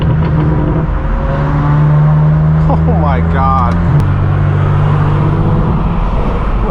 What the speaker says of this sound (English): Everybody's starting up their engines.